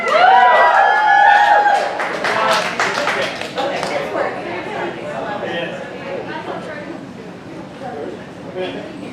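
Audience applauding and cheering a poet at a poetry slam in Dayton, Ohio: loud, dense clapping and crowd noise that starts strong and slowly thins, with some voices and chatter mixed in.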